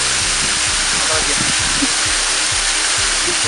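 Loud, constant roar of rushing water from the Gunung Balau (Way Gubak) waterfall, broad and hissing, with a voice faintly speaking Indonesian underneath.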